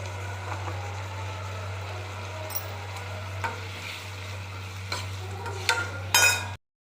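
Potatoes and drumsticks sautéing in a pan for a kurma, a steady low sizzle with scattered stirring scrapes and clinks, a steady hum underneath, and a louder clatter near the end before it cuts off.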